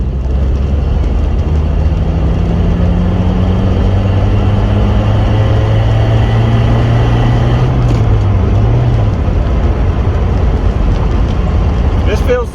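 A 1983 Plymouth Turismo driving on the road, its engine a low steady drone rising in pitch as it pulls through a gear and then dropping, under continuous road and wind roar inside the car.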